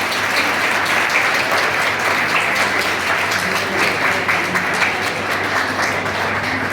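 Students at a World Malaria Day function in a college hall give a loud, sustained round of applause that stays dense and even throughout, with no one talking.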